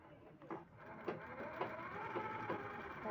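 A sewing machine stitches the neckline of a lined blouse, running with a faint, steady mechanical whir and soft rhythmic needle thumps, heard alone.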